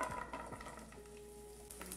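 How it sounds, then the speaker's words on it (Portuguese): Half an onion frying in three spoons of olive oil, a soft, low-level sizzle with light stirring clinks, no voices. "é só dar uma transparência à fritura da cebola"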